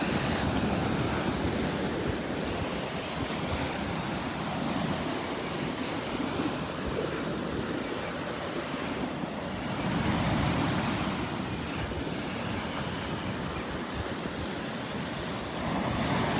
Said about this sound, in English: Love watching the waves crashing around the prayer tree here.